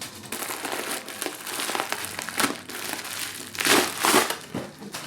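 Tissue paper crumpling and rustling while being pulled from a new Polene Paris handbag, close and crisp, with irregular bursts of crinkling that swell louder toward the middle and end.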